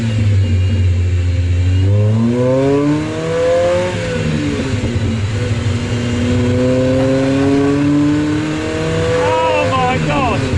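A VTEC engine from a Honda Civic Type R, fitted in a rear-wheel-drive Mini, revs loudly and close up, its pitch climbing and falling in several sweeping throttle blips, with a sharp high rise near the end; someone talks over it.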